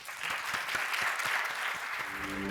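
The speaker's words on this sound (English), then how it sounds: "Round of applause for our panelists" Steady applause from a conference audience for a panel of speakers at an education event, dense and even throughout, with a faint voice near the end.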